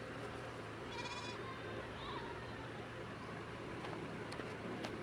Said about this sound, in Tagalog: Yan yung kambing.